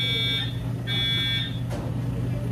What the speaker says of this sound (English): don't mind the alarm. They're doing some testing of the fire systems in the building